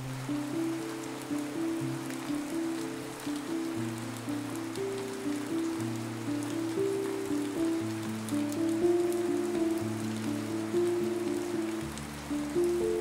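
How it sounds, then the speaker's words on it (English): Steady rain in the Minecraft video game, a continuous even hiss of falling water with low tonal music notes running underneath throughout. "But that was soon followed by some rain."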